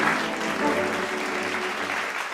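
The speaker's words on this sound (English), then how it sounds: "Another round of applause." Audience applause at an art awards ceremony, a steady wash of many hands clapping that stays fairly even through the short stretch, moderately loud and without speech.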